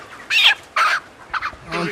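A heavy broiler chicken, about three kilograms, at a poultry farm clucks and squawks in four short, close bursts separated by brief pauses, loud and near.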